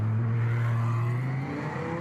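A Porsche 911 GT3 R race car pulling away from the start at the Nürburgring 24-hour race, its engine a loud, steady droning growl that sits close and shifts slightly in pitch as it moves off.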